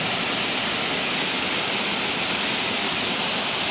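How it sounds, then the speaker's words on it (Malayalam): A waterfall roars in a steady, dense broadband rush, close and loud, with no voices over it. "ഇതാണ് നമ്മുടെ വെള്ളച്ചാട്ടം"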